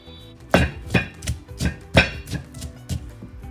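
Chili and garlic pounded in a mortar with a pestle, a steady series of heavy, close thuds about twice a second.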